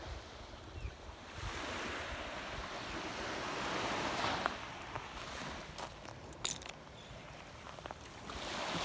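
Surf rolls steadily onto a quiet early-morning shelling beach at Captiva's South Seas Resort, a continuous wash of waves with wind buffeting the microphone and a few brief sharp clicks near the end; no voices.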